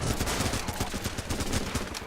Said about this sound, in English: UTS-15, that's a pretty solid shotgun